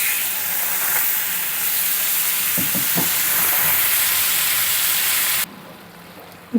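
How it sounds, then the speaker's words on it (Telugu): Cabbage pieces fry in a pan with chilli powder and spices, giving a steady loud sizzling hiss with a few brief stirring knocks before the sizzle drops away sharply near the end. "ఇప్పుడు క్యాబేజ్ ముక్కల్ని మంచిగా కలుపుకున్నాం కదండి"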